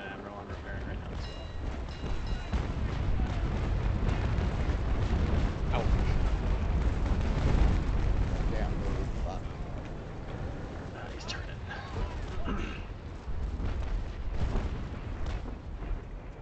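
Ship cannons fire in Naval Action during a sea battle, a sustained roar of heavy booming broadsides and rumbling explosions lasting throughout, with someone talking over the gunfire at times.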